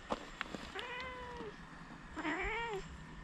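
A cat meows twice, close by, in two drawn-out plaintive calls about a second apart, with small clicks and faint background noise around them.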